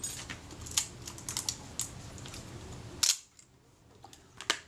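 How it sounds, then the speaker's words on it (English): Shutter of a Kodak Retina Reflex S camera firing on a workbench, heard as several sharp, close clicks spread through the clip, with one louder snap near the middle followed by quieter room tone. "Well, the shutter certainly works."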